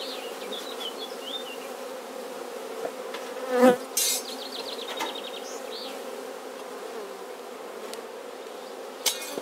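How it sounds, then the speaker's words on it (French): A dense, steady hum of many bees buzzing close by as they are shaken off hive frames, with a few sharp knocks and thumps breaking through. "je secoue les abeilles"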